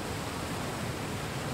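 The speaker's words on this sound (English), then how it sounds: "you got the cascade water coming down over." Water from a rocky cascade tumbles down in a soft, steady, distant rush that stays even and faint, with no voices.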